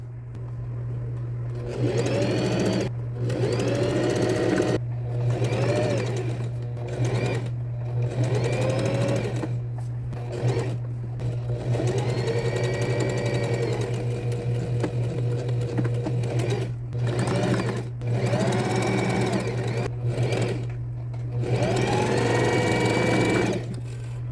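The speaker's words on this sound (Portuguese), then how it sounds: "Agora eu vou passar uma costura em volta." A sewing machine stitches a seam around a fabric chocolate holder in repeated bursts of fast mechanical whirring, separated by short pauses, close and clear over a steady low hum, with no speech.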